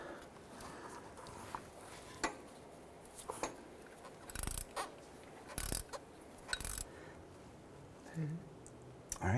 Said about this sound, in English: Let's go ahead and get that bolt started.